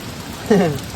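Heavy, cold rain pours down in a steady broadband hiss, with a brief voice rising over it partway through.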